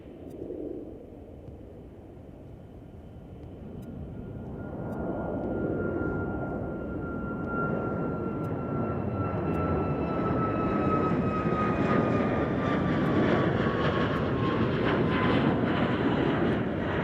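A United airliner departs Chicago O'Hare International Airport, its jet engines swelling into a broad, steady roar with a high whine that slowly falls in pitch, heard from a moderate distance without talk.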